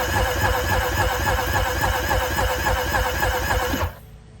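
A 1996 Yamaha Waverunner III engine cranking over with a steady, rhythmic churning drone for nearly four seconds before cutting off abruptly into near silence.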